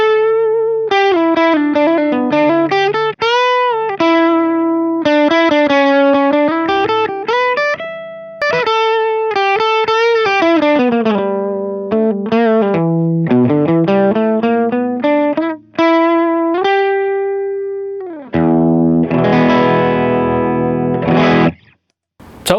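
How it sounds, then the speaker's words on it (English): Electric guitar played through an Orange Rocker 30 amp in its higher registers, a loud continuous stream of distorted melodic lines and bends with a brief chordal strum near the end, no voices. "let's go ahead and hear the higher registers on the Rocker 30."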